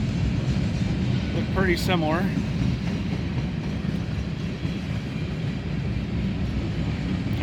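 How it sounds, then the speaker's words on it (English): A freight tank train rolls past in Oak Harbor, a steady loud rumble of wagons filling the whole stretch, with a brief horn-like rising tone early on and someone talking over it. "Obviously here it's a tank train"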